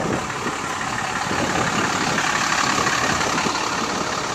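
A 2012 Dodge Ram 3500 Big Horn with a Cummins diesel and four-inch exhaust idles steadily, a continuous rumbling drone heard close and alone without any talk.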